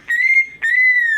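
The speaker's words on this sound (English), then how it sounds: "Yeah, it's a whistle, whistle, whistle." A young pet bird gives two sustained clear whistles, each about half a second, close and loud with a short gap between them and no voices.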